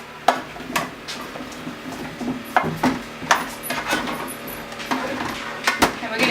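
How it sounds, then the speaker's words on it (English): A spoon tosses roast potatoes in a roasting pan to coat them, giving scattered scraping clinks and soft knocks against the pan at an uneven pace, close and moderately loud. "I'm just going to use a spoon to make sure that they're all fully coated"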